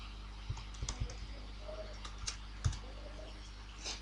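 Soft, irregular keystrokes from code being typed on a computer keyboard, a scattered run of clicks and taps at close range over a low steady hum.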